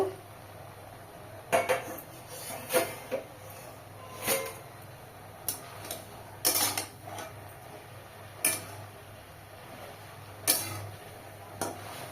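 A metal lid comes off a cooking pot in a kitchen while ridge gourd peel paste cooks, giving a few sharp clinks and scrapes of metal spread over several seconds, close and fairly quiet, with no talk.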